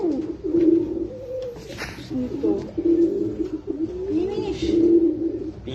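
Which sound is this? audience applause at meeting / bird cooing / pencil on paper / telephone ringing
bird cooing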